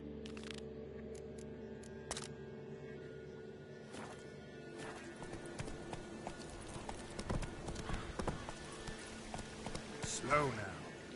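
The horse Roach clip-clops along in The Witcher 3, with irregular hoofbeats close by throughout, growing busier and louder toward the end, mixed with other game sounds and a voice.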